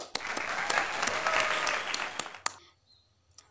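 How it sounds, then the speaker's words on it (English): A class gives a short round of applause, steady clapping for a few seconds before fading out. "Let's give applause for our class."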